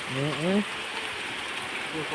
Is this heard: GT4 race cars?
no